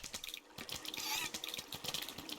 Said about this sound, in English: Hopefully, that's fixed the water flowing down into the kill chamber.